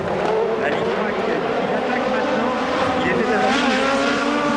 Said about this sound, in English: Bark of the engine and the flash from the turbo as he sets the car up just to go right